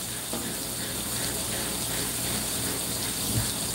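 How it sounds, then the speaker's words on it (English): Tap water runs steadily in a kitchen while hands are washed, a constant broadband rushing stream near and moderately loud with no talk over it. "And then I'm going to wash my hands"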